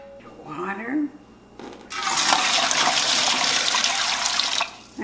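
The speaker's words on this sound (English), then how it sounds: "Then you want to put in your base, your water." Water pouring from a tap into a canner as the base for canning hot and sour chicken, a loud steady rushing gush that starts after a brief murmur of voice and runs for about three seconds before cutting off.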